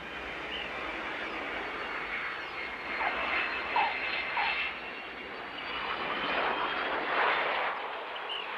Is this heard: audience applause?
no